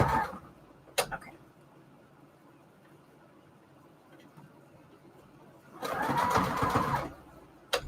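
A sewing machine stitching fabric ruffles onto index cards, driven by a pedal, whirs in two short bursts, a brief one at the start and a louder, longer run near the end, with quiet handling between.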